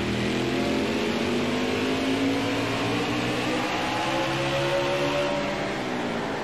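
Race car engines at Martinsville in a racing video game: a steady, loud engine drone with pitch that climbs and shifts as the cars accelerate, no talking.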